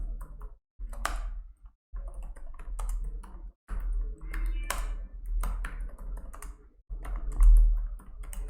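Computer keyboard typing of a name, close-up bursts of quick key clicks broken by short pauses, with a slightly heavier keystroke near the end and no talking.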